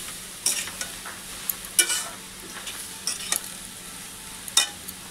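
A pan of bottle gourd curry being stirred, a utensil scraping and clinking in short irregular bursts over a soft sizzle, close by with no talk.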